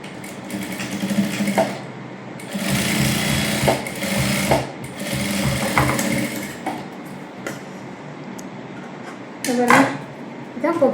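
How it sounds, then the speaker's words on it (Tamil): Domestic sewing machine stitching a child's princess-cut blouse for a half saree, running in short bursts of rapid stitching between pauses, with someone talking over parts of it. "இதை வந்து நம்ம மடித்து தைச்சிடலாம்."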